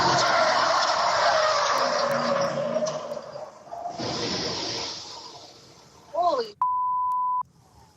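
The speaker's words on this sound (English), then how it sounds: "New dashcam video shows the moment a truck slams into Pelmeni Restaurant in downtown Anchorage, then speeds off." Caught on dashcam, a truck slams into Pelmeni Restaurant in downtown Anchorage with a loud, sustained roaring crash that fades, a brief tire screech, then a steady electronic beep.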